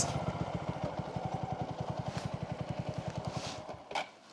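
A 4V motorcycle engine runs close by on a quiet rural outing, with a steady rapid thumping idle that holds for about four seconds before cutting off abruptly.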